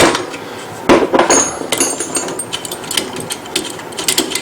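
A long metal wrench works loose the pressure stat on a Cremina lever espresso machine, giving sharp, close metallic clanks and ratcheting clicks in an irregular series.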